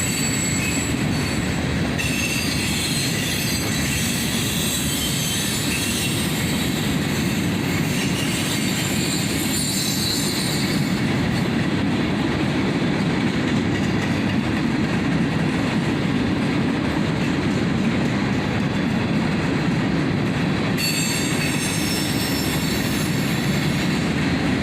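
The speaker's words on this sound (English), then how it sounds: "And an old Conrail boxcar here." Freight train rolling past, including an old Conrail boxcar: a continuous heavy rumble of wheels on rails with high metallic squealing, close and loud throughout, no talk.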